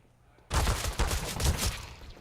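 A Counter-Strike: Global Offensive esports match: after a moment of near silence, a loud, dense burst of rapid gunfire erupts and continues nonstop for under two seconds.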